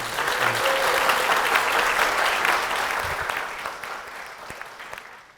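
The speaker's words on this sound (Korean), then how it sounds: "박수로 맞아주시겠습니다." At Gwangju Sarang Church, a Korean congregation applauds to welcome a deaconess, a loud, full burst of clapping that holds steady and then thins and fades away at the end.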